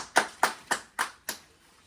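Five evenly spaced hand claps, crisp and close, ringing out alone in a steady rhythm during a welcome for a returning runner.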